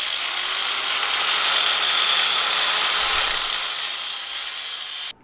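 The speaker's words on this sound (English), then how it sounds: "We got the grinder and cut them in half." Angle grinder slicing car oil filters in half, a steady harsh, loud grinding hiss that holds for several seconds and then cuts off abruptly.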